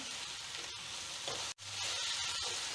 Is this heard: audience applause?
no